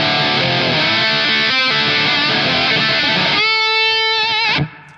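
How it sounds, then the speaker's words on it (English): An overdriven electric guitar plays through a Toxic Twins overdrive pedal, a souped-up tube screamer, into a 5-watt Tungsten Plexi amp with reverb in the loop. Dense distorted chords ring loudly, then a sustained note that cuts off abruptly. "This is a Caslitter Toxic Twins. It's kind of a souped-up tube screamer."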